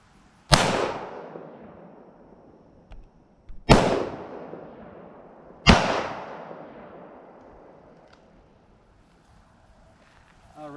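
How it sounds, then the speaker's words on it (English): .38 Special revolver shots ring out at an outdoor range, three sharp loud cracks spaced a couple of seconds apart, each with a decaying echo, with faint background noise between. "go to my trusty old revolver, see if we can hit the target with the revolver here"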